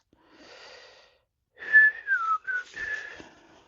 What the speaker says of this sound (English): I'm not allowed to whistle, sorry.